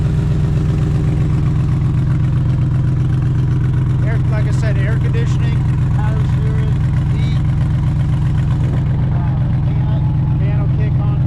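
Gen 2 Coyote V8 idling in a Factory Five Shelby Daytona, a steady, loud low rumble running throughout beneath someone talking.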